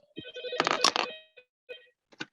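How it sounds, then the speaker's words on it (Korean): A telephone ringtone goes off in a school auditorium during a parents' general meeting: a few short melodic bursts at moderate volume, separated by brief gaps, with no talk over them. "어머님 저기 전화벨 소리"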